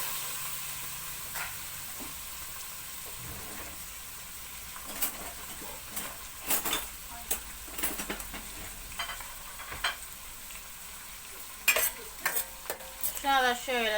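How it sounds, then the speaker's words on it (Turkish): Onion sautéing in oil in a pan on a home stove for a dinner with spinach, a quiet continuous sizzle punctuated by repeated clattering stirs of a utensil against the pan. "soğanı koydum. Bu da burada kavrulsun."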